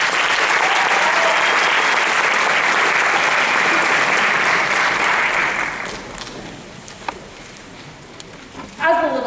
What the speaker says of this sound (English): please give a round of applause to Emily Akers